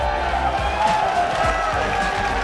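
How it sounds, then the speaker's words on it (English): Crowd cheering and clapping at a League of Legends esports match, a steady wash of arena noise with a commentator's voice running over it. "Boy getting a good cheer from the crowd"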